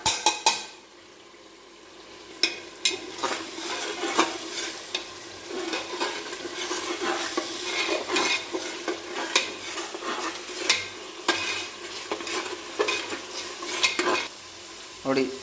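Cloves, cinnamon and turmeric powder frying in oil for chicken biryani while a spoon stirs them, a steady sizzle broken by frequent clicks and scrapes of the utensil against the pot, close up with no talking.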